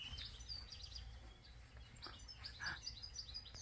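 A pet bird chirps in short, high, bright bursts at a modest level in a quiet home, with no one speaking over it.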